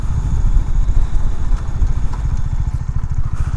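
A 2019 Husqvarna Svartpilen 401 single-cylinder motorcycle engine runs loud and close, its rapid, slightly uneven thumping pulse continuous throughout, with no talk.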